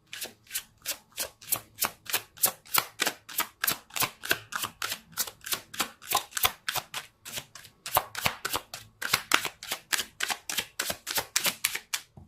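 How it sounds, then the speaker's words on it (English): A tarot card deck being shuffled by hand, a rapid series of crisp riffling bursts in a steady rhythm, close and loud, with one short pause midway. "Let's see if I can shuffle."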